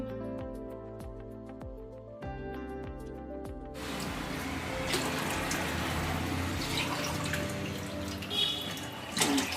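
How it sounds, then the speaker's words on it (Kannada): Water poured into a cooking pot while making vermicelli upma, a steady splashing pour starting after a few seconds of faint background music and continuing to the end. "ನೋಡಿ, ಇವಾಗ ನಾನು 4 ಪಾವು ನೀರು ಹಾಕೊಂತೀನಿ."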